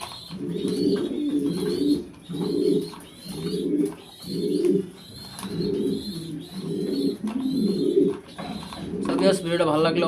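Giant Homer grizzle pigeons coo in a steady repeating rhythm of low, throaty phrases, close and fairly loud, with a brief flutter or scuffle near the end.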